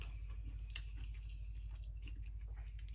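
Close-up chewing of a crunchy fried chicken burger from Burger Point, with soft crunches and wet bites repeating steadily over a constant low hum.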